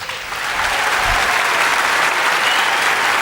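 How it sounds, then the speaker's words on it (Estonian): Audience at a jazz concert at the Jazzkaar festival breaking into loud, dense applause, a sustained wash of clapping from a large crowd, near and steady for about three seconds. "andkem sellest aplausiga märku"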